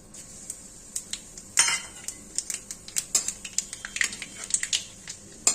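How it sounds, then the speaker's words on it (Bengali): Black cumin seeds crackle and pop in hot oil alongside fried bay leaves, a close run of sharp irregular snaps and ticks scattered over a few seconds with no talking. "সুন্দর করে ফুটে উঠেছে কালো জিরেগুলো"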